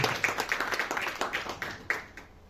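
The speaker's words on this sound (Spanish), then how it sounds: "Un fuerte aplauso para nuestro Señor, para nuestro Salvador." A church congregation gives a round of applause, rhythmic clapping from many hands at a moderate distance, steady and then fading slightly.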